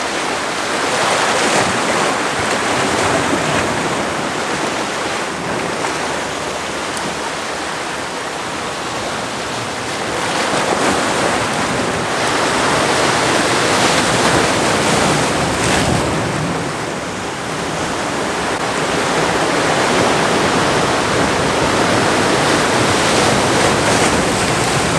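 Waves breaking on a rocky coast, a loud, continuous wash of surf with swelling and receding crashes throughout, wind buffeting the microphone, no voices.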